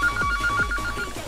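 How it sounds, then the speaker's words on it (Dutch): A telephone rings with a rapid electronic trilling pulse that repeats steadily, loud and close, with no talk over it. "Telefoon, jongen."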